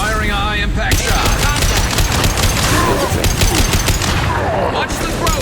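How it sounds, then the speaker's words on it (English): Heavy gunfire from Mass Effect 2 fills the scene, a dense, loud fusillade of rapid automatic shots with sharp repeated cracks running almost continuously throughout. "Firing a high-impact shot."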